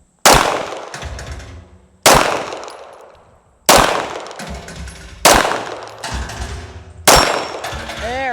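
A CZ Custom A01-LD pistol fires five spaced shots at steel targets, each a sharp loud crack followed by a ringing metallic clang that decays before the next, with brief speech in the gaps.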